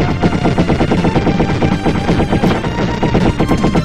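Rapid gunfire and explosions from the retro shooter video game Wild Guns, a dense, continuous barrage of shots over game music, loud and unbroken with no talk.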